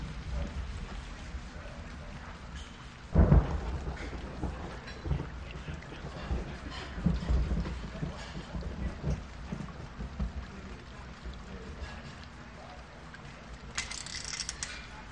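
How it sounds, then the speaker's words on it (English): Steady rain with a rumble of thunder around the three-second mark in the video game Tex Murphy: Pandora Directive, a continuous wash of falling water with fainter distant rolls later, no talk over it. "Looks like the rain's letting up."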